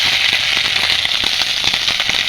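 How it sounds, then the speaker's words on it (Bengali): Grated coconut fries in hot oil with a dense, close crackle and spatter of popping bursts that keep up throughout, no voices present. "তেলের মধ্যে এবার আমি নারকেল কোড়াটা দিয়ে ভেজে নেবেছি"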